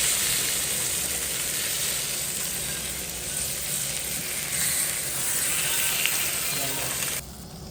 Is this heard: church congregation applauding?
no